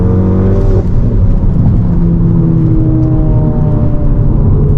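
A 500 BHP VW Golf GTI accelerates hard in third gear, its engine roaring loudly and steadily with rising pitch, heard from inside the car with a constant heavy road rumble.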